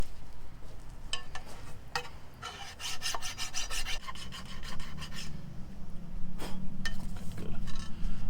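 Rust being scraped off the exhaust manifold of a 100cc motorized bicycle: repeated rasping, filing strokes in quick bursts, close and fairly steady, with no talking.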